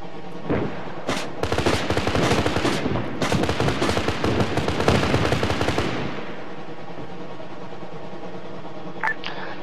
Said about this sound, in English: Vandal Devil, rocket run complete.